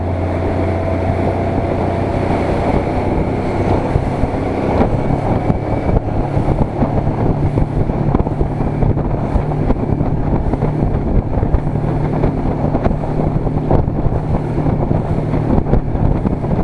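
Inflatable boat with a fiberglass floor and a 60 hp Suzuki outboard running over waves, a steady loud engine drone mixed with heavy wind buffeting on the microphone and hull slaps throughout, with no talk.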